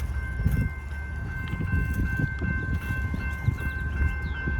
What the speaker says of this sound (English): we got a train coming right behind me going down the hill